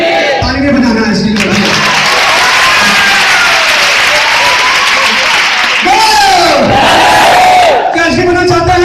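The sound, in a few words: audience clapping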